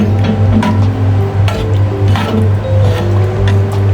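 A spatula stirs a thick chicken cream soup in a pot, making wet squishing and sloshing sounds in a repeated rhythm over a steady low hum, close and without talking.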